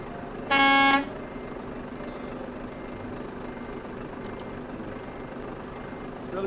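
A single loud truck horn blast lasting about half a second sounds during a truck convoy ride, followed by a steady low engine rumble and road noise with no talking.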